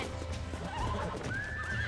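A horse in Red Dead Redemption gives a faint, rising whinny over a low background of hooves and ambient game sound, the neigh stretching into a long wavering call near the end.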